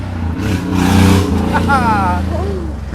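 Road traffic passes on the old Lewis Ferry Road beside a historic whiskey distillery, with a vehicle engine rumbling close and loud and people talking over it.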